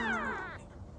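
A Ragdoll cat that has just given birth to kittens gives one clear, fairly loud meow that slides downward and fades within about half a second.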